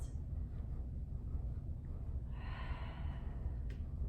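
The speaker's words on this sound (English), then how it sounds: "Continuing to inhale and exhale." Slow yoga breaths drawn in and let out through the nose, soft and close, with a longer audible exhale swelling midway against a quiet room.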